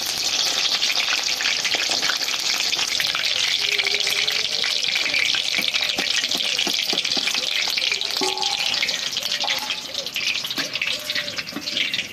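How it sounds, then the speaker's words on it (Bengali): Cabbage fritters (beguni) crackle and hiss steadily in a pan of hot oil, a dense, continuous close-up sizzle with a few faint clinks, running without speech for the whole stretch. "দেখুন বন্ধুরা সবগুলো বেগুনি ভাজা হয়ে গেছে"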